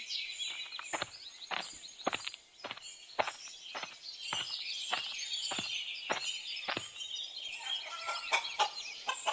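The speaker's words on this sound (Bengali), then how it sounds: "তোমার খামারে তো দেখছি অনেক মুরগি" Poultry on a farm cluck and call in a steady busy chorus, with many short sharp bird calls close by and a scratchy, scuffling background throughout, no talking.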